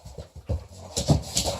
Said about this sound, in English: I'm sorry, these dogs are hard to ignore.